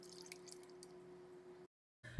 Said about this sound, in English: So here I'm gonna pour in the coffee.